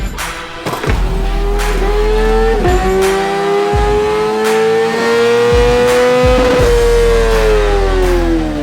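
Kawasaki British Superteen race motorcycle revving hard toward a 15,000 RPM ceiling, a loud high-pitched wail climbing through several quick-shifted gears with brief blips between shifts, continuous and close.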